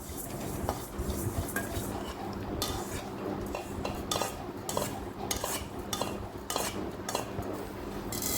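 Fennel seeds are dry-roasted in a pan while sambar powder is being made, a close scraping and stirring with a spoon giving repeated metallic clinks and rattles in an uneven rhythm, with a faint sizzle beneath.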